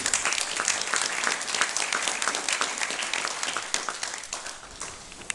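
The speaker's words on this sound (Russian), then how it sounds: "За это прошу аплодисменты." Hall audience applauding at a cultural event, a thick wash of clapping that holds steady for several seconds before thinning slightly toward the end.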